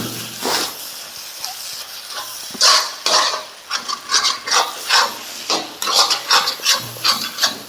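A spoon stirs egg masala with fresh coriander leaves in a pan, giving repeated scraping strokes in an uneven rhythm, close and fairly loud, with no talking.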